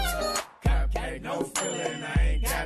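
A bright, ringing bell tone repeats through a music beat, layered over deep bass hits and other tonal parts in a steady rhythm. No one talks.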